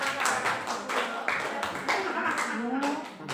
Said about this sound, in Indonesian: Tepuk tangan untuk Bapak Ibu guru.